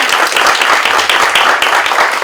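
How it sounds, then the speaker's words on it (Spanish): Steady, close applause from an audience at a student editorial project presentation, a brisk burst of many hands clapping together without any voices on top. "les pido un aplauso para el maestro Jaramillo"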